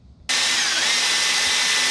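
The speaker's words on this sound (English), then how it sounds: "Okay, we're drilling that out with a" Power drill boring out a Club Car Precedent upper control arm with a 13/16 bit for bushings, starting abruptly after a brief quiet moment and then running steady, loud and whining without pause.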